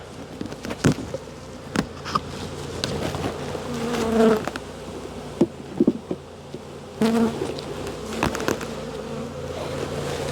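Honey bees buzzing around an open hive during a demaree split, a continuous close droning hum with a few knocks and bumps of equipment, no talking.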